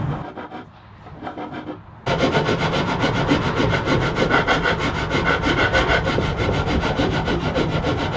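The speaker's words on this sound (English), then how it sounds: "I'll fine tune these edges with a rasp and a file" Rasp and file smoothing the edges of a beetle kill pine board: after a brief quiet pause, steady scraping strokes rub back and forth loudly and continuously, close by.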